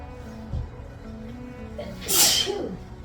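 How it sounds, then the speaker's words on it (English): A single loud, sharp sneeze bursts out close by after a brief quiet sniff and a faint voice beforehand. "I'm gonna sneeze"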